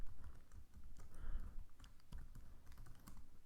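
Rapid, uneven clatter of keys on a computer keyboard, typed at close range in quiet bursts with no one speaking.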